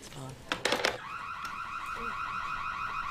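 A brand new domestic alarm system goes off loudly and steadily, its electronic tone sounding continuously after a brief burst of noise at the start.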